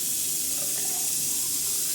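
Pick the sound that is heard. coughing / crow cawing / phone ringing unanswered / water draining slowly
water draining slowly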